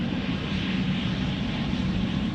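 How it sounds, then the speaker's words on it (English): An Embraer 190 jet taking off at Amsterdam Schiphol, a steady broad engine roar with a low droning hum, loud and continuous throughout with no other sound standing out. "Embraer 190 to Bristol, which already is on the runway."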